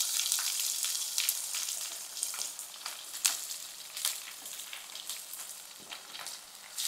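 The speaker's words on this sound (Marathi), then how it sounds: "आता आपल्याला ह्याच्यात हा कांदा टाकायचा आहे" Onion frying in hot oil seasoned with cumin and curry leaves for a dry potato dish, giving a bright, continuous sizzle with crackling pops and occasional stirring, close and steady with no talk.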